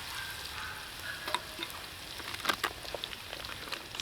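Garlic toasting in a small pan over a bushbox stove, a soft steady sizzle with scattered faint pops and crackles, close but quiet, no voices.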